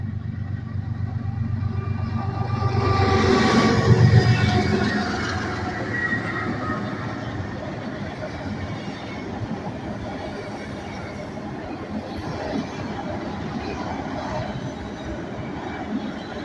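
An auto rack freight train rumbles past nearby in Abbeville, a steady rolling roar with rail clatter that swells early on and then holds constant.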